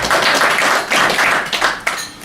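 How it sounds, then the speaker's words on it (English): An audience at a District Governor's club visit gives a round of applause, a dense burst of clapping that swells and then thins toward the end. "So, a nice round of applause,"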